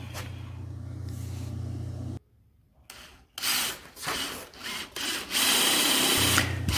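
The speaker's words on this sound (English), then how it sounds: "Now I'm going to drill out this center hole. I'm using a 3/4 inch bit to drill the center hole out." A power drill fitted with a 3/4 inch bit bores a center hole through a block of wood, a loud steady whine that cuts off, pauses briefly, then returns with rough grinding bursts before settling back into a sustained drone.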